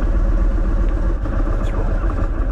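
A 2023 Indian Sport Chief motorcycle fires up, a loud, close, low rumbling V-twin engine that settles into a throbbing idle for a couple of seconds.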